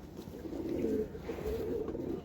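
Pigeons kept for sale coo softly nearby in a low, rolling, murmuring call that runs through the short stretch without any talk.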